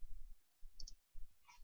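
Computer mouse clicks while working in Maya on an elf model: a quick double click followed by a few more crisp clicks, close and quiet, with no talking.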